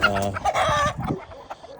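A rooster clucks and squawks nearby in a short burst of throaty calls, loud and close, with faint background noise.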